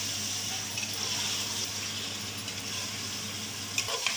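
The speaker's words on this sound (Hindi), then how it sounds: "अब इसे अच्छे से चलाना है, यानी जो हमने ऑयल में सब प्याज वगैरह डाले हैं वो सब, और मटन एक साथ करके हम इसे मिक्स करेंगे" Mutton and onions sizzle in oil in a pan over full flame while being stirred for korma, a steady frying hiss with soft stirring scrapes and a few sharp clinks near the end.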